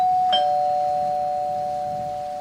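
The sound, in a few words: doorbell ringing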